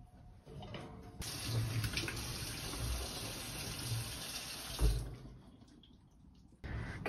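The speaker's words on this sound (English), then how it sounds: "I thought maybe a cold shower would be great." Cold shower water runs in a steady, loud hiss for about five seconds, then cuts off and starts again. Nobody speaks.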